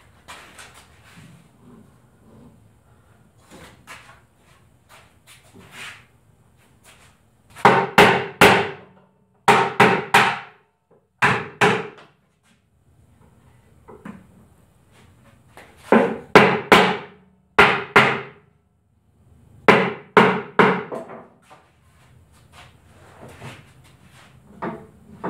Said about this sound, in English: But I'm thinking just tapping it will probably get it.